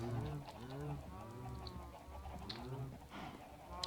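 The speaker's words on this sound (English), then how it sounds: "The chicken pit's there." Chickens cluck in a chicken pit in Minecraft, several short pecking clucks and squawks scattered across a few seconds, fairly close and unaccompanied by talk.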